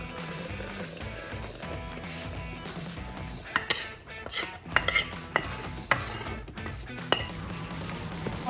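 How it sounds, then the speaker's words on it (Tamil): Hot marshmallow mixture is whipped by hand in a metal pot, with quick rhythmic clinks and scrapes of the whisk against the sides, growing busier and louder partway through. "நம்ம இதை விப் பண்ணணும்."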